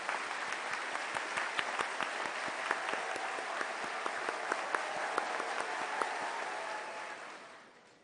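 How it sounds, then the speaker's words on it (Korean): Large crowd applauding at a Shincheonji Church of Jesus religious rally, a dense, steady roar of clapping that holds for about seven seconds before fading out. "여러분 큰 박수"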